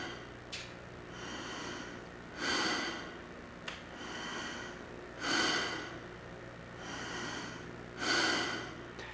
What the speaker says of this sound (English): Place the tube between your teeth, then take 5 relaxed inhales and exhales without any break.